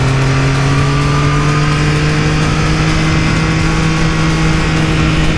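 Motorcycle engine revving hard while the rider pulls a wheelie on a road, a steady loud drone with a rising engine note held close throughout, no talking.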